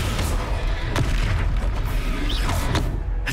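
Spell impacts in a Harry Potter video game: a dense rumbling barrage of booming thuds, with a few sharp cracks cutting through a continuous low roar.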